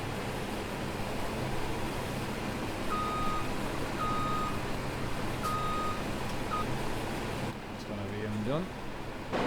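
A truck reversing in the Farming Simulator 2017 video game, with evenly spaced backup beeps sounding over a steady engine and ambient drone, until a brief change near the end.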